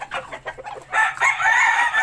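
Iloilo derby chickens cluck in short bursts, then a rooster crows loudly nearby, its drawn-out call filling the second half.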